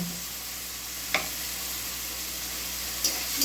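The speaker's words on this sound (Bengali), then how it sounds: "চিংড়ি মাছ দিয়ে ভালো করে এটা কষাই নেব সামান্য হলুদ দিয়ে দেব" Prawns sautéing in a pan with turmeric and cumin-coriander powder, a steady soft sizzle with a couple of faint clinks of a spoon against the pan.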